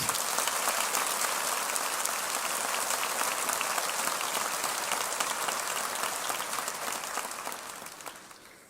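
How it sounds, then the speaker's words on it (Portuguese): A church congregation claps loudly and steadily during a Portuguese-language sermon, the dense applause holding for several seconds before tapering off at the end. "Eu quero que você aplauda Jesus bem forte."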